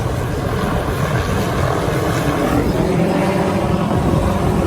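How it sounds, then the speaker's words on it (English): Helicopters flying overhead during an outdoor boat jack plate install on a Key West 189FS, a constant loud rumbling drone with broad noise and no clear rotor thump, steady throughout. "sorry about the noise, we got helis."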